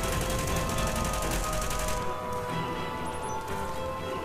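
A turret in The Division shooter game fires a rapid, steady stream of projectile shots for about two seconds, loud and close, then cuts off, leaving a fainter scattered combat din.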